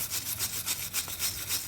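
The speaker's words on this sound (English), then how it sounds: "And to do that, you can use a wire brush," A wire brush scrubs loose corrosion and scale off the rear brake mating surfaces of a 2018 Chevy Cruze LT, giving quiet, quick back-and-forth scratching strokes in a steady rhythm, close up.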